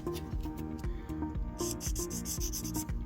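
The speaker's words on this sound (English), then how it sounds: "you still have to go in and do a little bit of sanding" Close, rhythmic rubbing strokes of sanding repeat every fraction of a second, a soft rasping back-and-forth on a small hard plastic model part.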